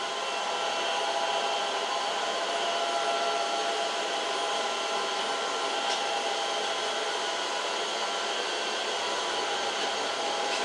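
A Tineco S7 Flash and a Dyson Wash G1 wet dry vacuum run as they clean, giving a steady, loud, even motor whir that holds throughout with no talking.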